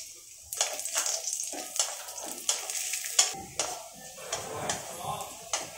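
Cashews and raisins fry in ghee, with a soft steady sizzle under repeated scraping and clinking of a spatula stirring in the pan, close by.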